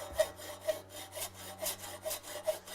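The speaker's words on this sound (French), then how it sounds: "Une lime plate." Metal filed with a flat file, with steady rhythmic rasping strokes about twice a second, close and moderately quiet over a low background hum.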